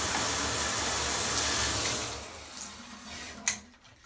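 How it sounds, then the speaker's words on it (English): A shower runs with a steady, close hiss of spraying water that fades after a couple of seconds, followed by a brief knock and quieter trickling. "to switch it on for the shower, you just push left, left for the actual shower"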